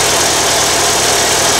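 A Volkswagen engine idling just after a cold start on a cold, humid day, heard as a loud, steady, rough drone with no talking over it.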